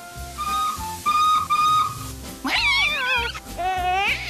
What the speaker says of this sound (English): you toot the whistle here.